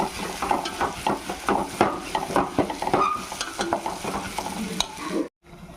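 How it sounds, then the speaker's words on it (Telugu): Shallot paste for an Andhra chicken curry fries in a pan with a constant sizzle while a spoon scrapes and stirs in quick, repeated strokes, close and loud, ending in a brief silence. "అది పచ్చి వాసన పోయేదాకా మనం ఫ్రై చేసుకుందాం."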